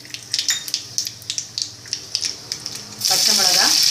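Mustard seeds spit in hot oil on a stove, giving a quick run of sharp crackles and pops, then a sudden louder, steady sizzle near the end.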